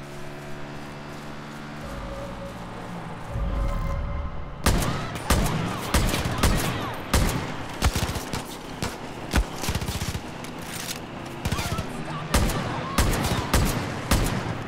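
Gunfire in the post-apocalyptic shooter Far Cry New Dawn: a rapid series of sharp, loud shots crackles over a rumbling engine, with bursts coming irregularly over about fifteen seconds and no talking.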